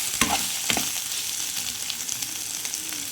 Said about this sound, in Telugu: ఇప్పుడు పొటాటోస్ వేసేసుకున్నాము. కొంచెం అలాగ వేగినాక